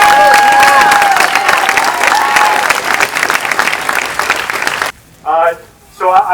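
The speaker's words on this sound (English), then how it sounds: "so I want one more round of applause." A rally crowd applauds and cheers loudly for about five seconds, dense sustained clapping with whoops and shouts on top, then the clapping cuts off and a voice speaks over a PA system.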